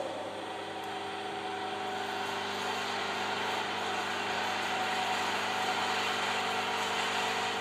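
Single-phase electric motor spinning at no load on a lab bench, fed from an autotransformer at rated 230 volts, giving a steady, even hum and whine throughout.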